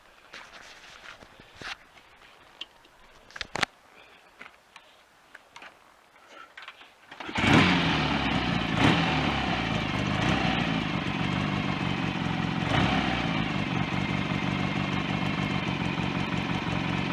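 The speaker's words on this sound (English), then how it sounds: "that's the engine, fully rebuilt, like I say, with new big ends" Fully rebuilt BSA A65 twin motorcycle engine with new big ends, starting after several seconds of faint clicks and ticks, then settling into a steady, loud idle with a continuous rumbling drone and light mechanical ticking.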